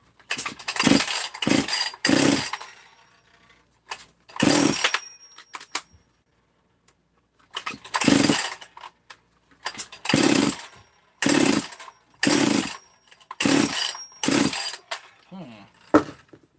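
A small two-stroke engine fitted with a 262 muffler is revved in a string of loud, sharp bursts, about ten in all, separated by short gaps where it drops back toward idle or near silence.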